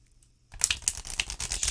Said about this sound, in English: shuffle a deck the way I like to shuffle a deck